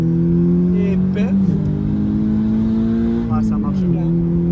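Toyota GT86 with a 200 hp naturally aspirated engine and rear-wheel drive accelerating hard from inside the cabin, a loud, steady engine drone rising in pitch before a brief shift and climbing again.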